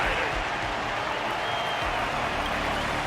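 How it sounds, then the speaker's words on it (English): Dense, continuous crowd applause fills a wardance ceremony in the game Honkai: Star Rail, a steady wash of clapping with low rumbling undertones lasting throughout. "Their constant applause is a salute to this resilient Belabogian fighter."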